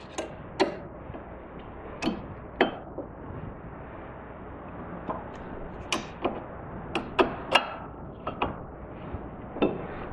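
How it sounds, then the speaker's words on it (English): New brake pads go into the caliper of a front-wheel-drive car, a series of light metallic clicks and taps repeating irregularly at close range against quiet background. "Now we can install the new brake pads"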